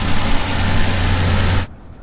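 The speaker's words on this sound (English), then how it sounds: "we were revving the engine" The engine of a Toyota FZJ80 Land Cruiser runs with a loud, steady, close-up roar and low hum during cooling system work after a water pump and thermostat replacement, then cuts off abruptly near the end.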